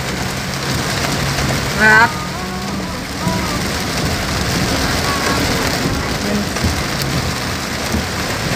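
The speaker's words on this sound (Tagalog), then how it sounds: "Ang lakas guys ng ulan guys" Heavy rain pours steadily throughout as a broad, constant wash, with a voice talking briefly over it near the start.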